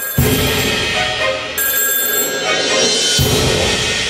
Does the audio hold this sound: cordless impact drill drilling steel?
no